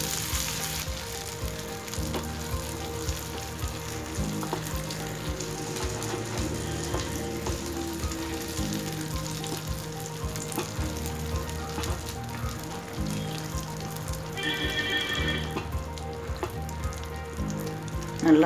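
Butter melts and sizzles steadily in a pan on the stove while praline is made, a continuous crackling fry with faint clinks and a brief tonal beep partway through.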